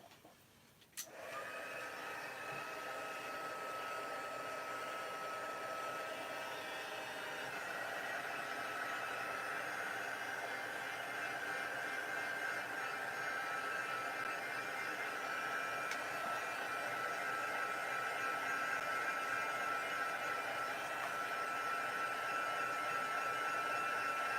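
A hair dryer drying stamped paper craft clicks on and then runs with a steady, loud whooshing hum for over twenty seconds, with no talking.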